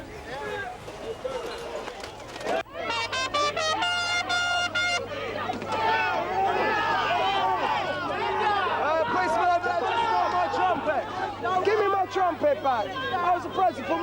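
A large riot crowd penned in by police in London's Trafalgar Square fills the air with shouting voices and babble, near and loud, with agitated people talking over a steady hum and a brief sharp burst early on.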